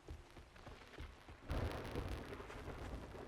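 Rain and thunder in the video game 7 Days to Die: a soft steady downpour swells abruptly into a loud rolling rumble with heavy rain hiss, heard alone without voices.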